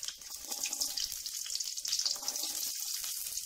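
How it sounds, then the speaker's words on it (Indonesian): Onions sautéing in hot cooking oil in a wok give off a steady bright sizzle and crackle, close and continuous for a few seconds, with no voices. "Setelah minyak panas, akan kita lanjutkan dengan menumis bawangnya terlebih dahulu"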